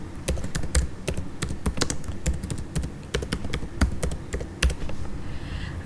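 Typing on a computer keyboard while filling in an online article submission form, with quick, irregular clicking keystrokes close up and steady throughout, no talking.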